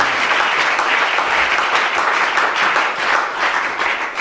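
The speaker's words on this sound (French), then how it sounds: "Acclame bien, s'il te plaît." A church congregation breaking into loud, dense applause, many hands clapping close and continuous with a slight crowd murmur under it.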